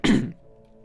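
A single short, throaty cough close to the microphone, followed by quiet.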